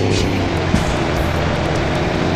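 Truck engine braking and downshifting in Grand Truck Simulator 2, a steady loud low engine drone that rumbles on without pause and carries no voices.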